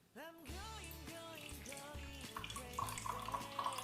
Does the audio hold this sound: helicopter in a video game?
no